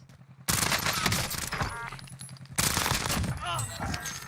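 Video game gunfire from a tracer pack weapon: two loud bursts of rapid shots, separated by a quieter stretch, with a voice talking over the action.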